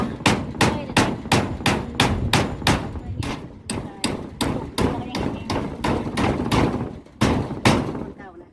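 Repeated sharp metallic hammer blows, roughly two per second, driving nails into thin galvanized zinc roofing sheet for a fence, ringing, close and loud, with a few brief pauses.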